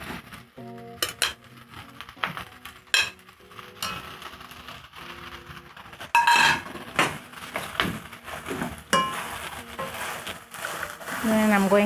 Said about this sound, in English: Then I'm going to stir the OssoBuco in the tomato sauce.